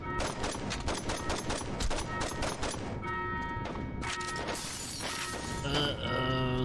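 Rapid bursts of gunfire crack and rattle nonstop in Saints Row 2, close and loud, with sharp repeated shots layered over a busy game soundtrack.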